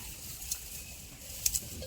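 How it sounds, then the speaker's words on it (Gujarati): Light rain falls on a farm as a steady soft patter and hiss, with a couple of faint brief ticks of drops, close and even, with no voices. "વરસાદ ચાલુ જ છે, હજી ધીમો ચાલુ જ પડ્યો."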